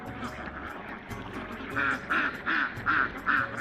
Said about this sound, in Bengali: প্রিয় দর্শক এখন আমার হাঁসগুলোকে খাবার দেওয়ার সময়